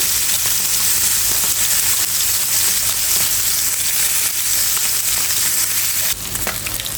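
Small whole puthi fish fry in hot oil, making a loud, dense, continuous sizzle and crackle close up that runs without pause, with a short louder burst near the end.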